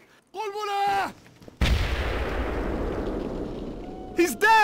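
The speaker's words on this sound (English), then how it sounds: "They're shooting at us!" Enemy gunfire in the Full Spectrum Warrior war game, a heavy blast followed by a long rumbling decay, with shouting voices before and after.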